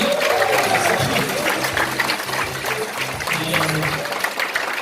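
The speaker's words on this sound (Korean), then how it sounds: "우리 서로를 위해서 박수 한번 주십시오" Applause from a crowd at a regular members' gathering, a steady dense wash of clapping hands filling the room, with a voice speaking over it.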